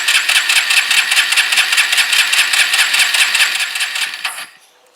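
A Kawasaki BN125 Eliminator motorcycle engine fires up with a dry carburettor and runs loud and close in a steady buzzing rhythm for about four seconds, then abruptly cuts out and fades into near silence.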